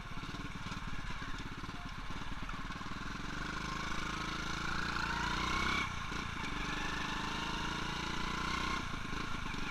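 An old motorcycle engine runs steadily and close by, with a continuous broadband drone and a slight rise in pitch partway through, alone without talk.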